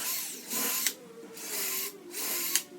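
A power drill drives screws into wood while a pedestal table base is built, two loud whirring bursts, each ending in a sharp catch, separated by brief pauses.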